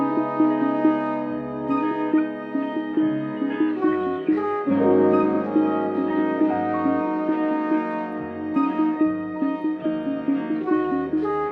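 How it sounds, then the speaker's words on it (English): A Splice music sample featuring horn plays as a layered, melodic loop with sustained brassy tones over a low bass line, steady and full without any talking. "I'm going to show y'all what the original Splice sample sounded like."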